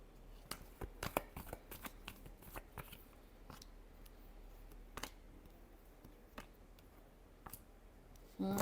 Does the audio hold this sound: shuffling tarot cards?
yes